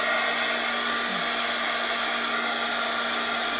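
A hair dryer blows steadily and loudly on colored artwork to dry it, a continuous broadband whoosh with a constant motor hum, no talking.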